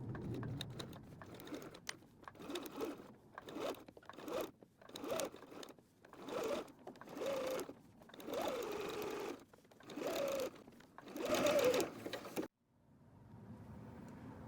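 A sewing machine runs in repeated stop-start bursts while stitching a quilted cat pillow, slowing around corners with pauses between runs, close and loud, ending in quiet.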